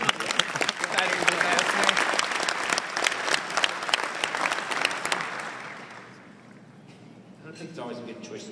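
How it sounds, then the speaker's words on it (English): An audience at a company event applauds loudly as someone is called up on stage, steady clapping that fades out after about six seconds, followed by someone speaking. "Round of applause for Kevin, bring him up here"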